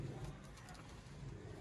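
Sialkoti pigeons coo softly and continuously in a loft, a faint low murmur of overlapping calls with no clear break.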